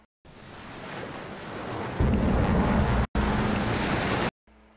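Steady roar of ocean surf, a broad rushing wash that swells louder partway through, briefly cut off twice, with no voices.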